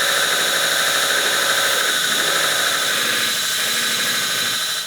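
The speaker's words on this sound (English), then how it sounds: "This is a 60 grit belt, and this is a really nice quality 3M Cubitron, self-sharpening." A belt grinder running a 3M Cubitron 60 grit self-sharpening belt grinds steel for a bushcraft knife, producing a loud, close, sustained high whine with a steady grinding roar and no voices.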